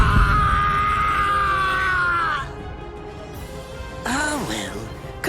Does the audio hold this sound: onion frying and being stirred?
no